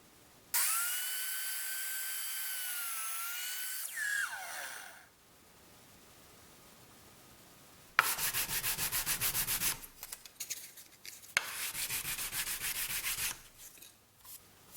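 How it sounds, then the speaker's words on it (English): Rhythmic sanding strokes rasp against wood in loud bursts, alternating with a whining power tool and quiet pauses. "by sanding down a little bit from each side"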